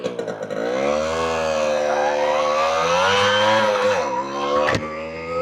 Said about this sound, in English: Just listen to that engine screaming